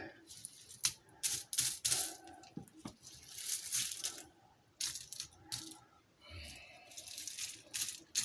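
A spoon slowly stirs a brim-full pot of Hamburger Helper lasagna, giving intermittent soft squelches, scrapes and clicky rattles in uneven bursts separated by quiet pauses, close and fairly faint.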